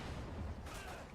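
Gunfire in the video game Modern Warfare 2 during a Domination match, heard as a dense, continuous rumble of shots and blasts that stays loud and busy throughout the short stretch.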